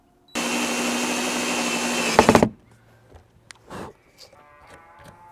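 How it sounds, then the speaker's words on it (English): Power driver sinking a self-tapping screw into a tonneau cover at the rear of the velcro strip, a steady loud whirring for about two seconds ending in a brief rattling catch, then quiet handling clicks. "insert one of these self tappers at the rear of the velcro here just to hold it"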